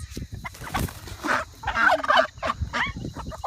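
A noisy crowd of hungry backyard chickens awaiting feed calls out together, overlapping squawks and clucks rising and falling close by, with no talking.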